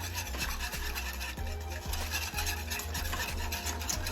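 Whole milk and vanilla stirred in a pot for banana pudding, a spoon circling in a steady repeating rhythm with soft scraping and liquid swishing, close and fairly quiet.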